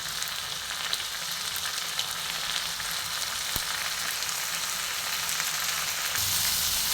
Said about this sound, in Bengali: একটুখানি ভাজা হোক